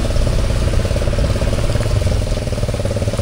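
A Honda automatic scooter motorcycle engine runs steadily on a rough alternative route, its loud, close drone holding a constant throbbing pitch throughout with no talking.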